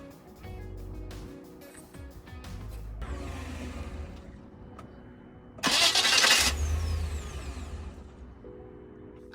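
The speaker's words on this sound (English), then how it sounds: "update, Mitch started the car." A car that broke down on a winter road trip in Ouray starts up after its starter motor is replaced: starter cranking, a brief whirr, then the engine catches with a loud surge and settles, heard up close.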